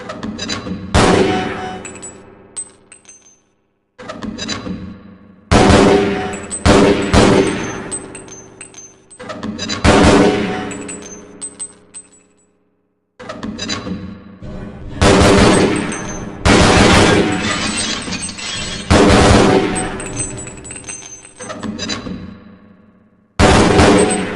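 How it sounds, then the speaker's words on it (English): Loud gunfire and grenade blasts break targets on the Half-Life Black Mesa training firing range, with sharp shots and metallic clangs coming in several long bursts separated by brief silences. "use your alternate fire button. Certain targets will break only when hit by grenades"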